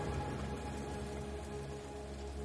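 Steady rain falls in an even, continuous wash of drops on a surface, with no voices and no break across the short stretch.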